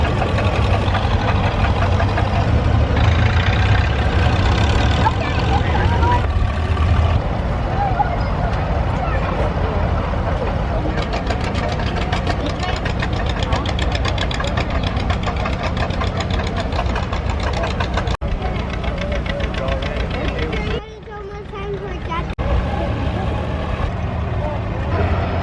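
Antique tractor engines idle in a lineup at a tractor pull during a machinery show, a loud, continuous chugging rumble with knocking pulses that dips briefly near the end, while people talk over it.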